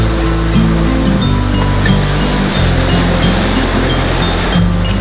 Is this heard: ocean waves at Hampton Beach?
yes